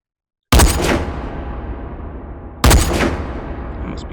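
Two loud, sharp sniper rifle shots fired on a long-range sniper range in the VR shooting game H3VR, each cracking sharply and then trailing off in a long rolling echo, about two seconds apart, with no talking.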